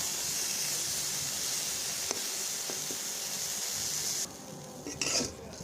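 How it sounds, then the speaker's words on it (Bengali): Chepa shutki, fermented dried fish, frying over a very low flame in a pan, giving a steady soft hiss and sizzle with a few faint utensil clicks, then a quieter stretch near the end. "চুলার জালটা একদম আস্তে করে দিয়ে করে ভাজি করবেন।"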